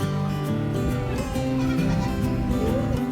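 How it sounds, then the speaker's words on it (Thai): Many goats bleat together at a busy outdoor market by a bridge, near and loud, their overlapping wavering calls running continuously over a dense crowd-like background. "โอ้ แพะเยอะเลยครับผม"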